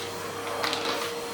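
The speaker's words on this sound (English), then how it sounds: "Let's get a vacuum in here" A household vacuum cleaner runs steadily through a home cleaning session, a continuous broadband whoosh with a fixed hum, fairly close and unbroken, with no talking.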